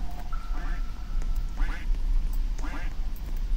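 A duck quacks three times in a video game, the calls in short bursts over a steady low background hum, with faint voices beneath.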